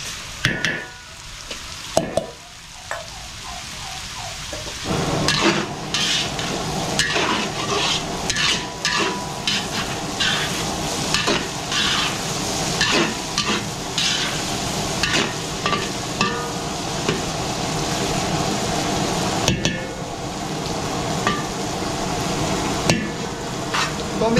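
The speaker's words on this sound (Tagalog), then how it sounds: "Okay, gigisa na natin yung pork menudo, bawang sibuyas." Garlic and onion sautéing in a pan for pork menudo, with a steady loud sizzle and repeated scraping, clinking stirs throughout, quieter for the first few seconds before the frying builds.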